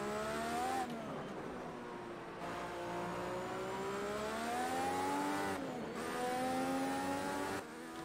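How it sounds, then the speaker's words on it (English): A turbocharged race car in the video game Project Cars 2 accelerates through several gears, loud rising engine whine with a turbo whistle, dropping pitch at each shift, up close and without talk. "I love it when the turbo kicks in."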